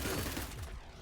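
Short burst of gunfire in Cyber Knights: Flashpoint, a fast, muffled volley that fades within a second, with no speech over it.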